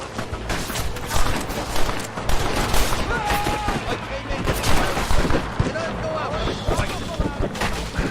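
Gunfire in Red Dead Redemption on PS3, rapid repeated shots and fusillade bursts crackling continuously with background game sounds, loud and close throughout.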